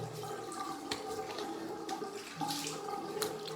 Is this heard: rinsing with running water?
yes